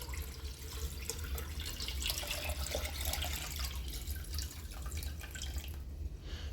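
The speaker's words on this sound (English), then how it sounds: "we're just going to pour this into our pitcher" A pinkish sumac berry drink, similar to lemonade, is poured into a pitcher, giving a steady splashing trickle of liquid for several seconds at close range.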